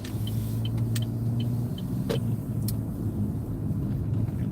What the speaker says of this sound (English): MTA bus